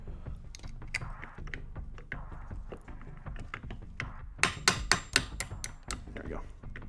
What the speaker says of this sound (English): Go ahead and drop the trigger in there.